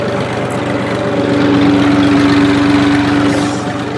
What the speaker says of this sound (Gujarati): ટ્રેક્ટર લઈને આપણે ઉપડી રહ્યા છીએ